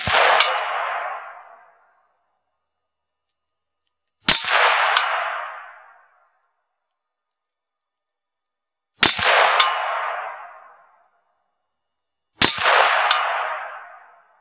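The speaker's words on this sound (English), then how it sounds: "Next we're going to move on to the 150 yard hostage target, where I'll be using the same round 55 grain soft point 223." Four separate .223 rifle shots, 55 grain soft point rounds, each crack followed by a ringing clang from a steel hostage target at 150 yards, spaced several seconds apart with long decaying rings and silence between.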